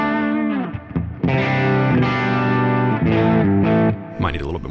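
Heavily distorted electric guitar played through a Fractal Audio FM3 preset, loud sustained chords with edge-of-breakup crunch, phrases cut off by short pauses and restarted, ending in a brief noisy scrape.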